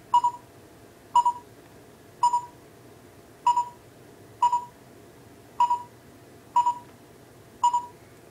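A short electronic double beep repeats steadily about once a second, clear against a quiet background hum.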